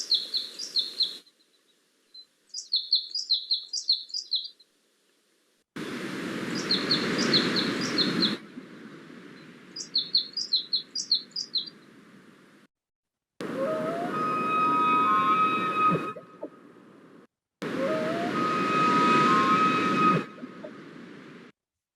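High-pitched bugling calls in short trilled bursts ring out over gusty wind noise outdoors, the calls alternating with loud rushing stretches and brief silences.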